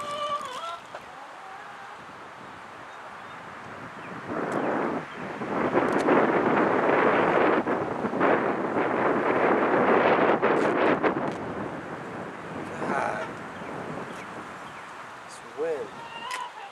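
Wind gusts buffet an outdoor microphone while char cloth is being prepared, swelling into a loud, rough roar midway and easing back toward the end, with a voice speaking over parts of it.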